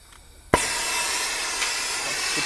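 A gas cylinder valve is opened with a wrench to feed a plumbing soldering torch, giving a sudden sharp onset followed by a steady, loud hiss of escaping gas.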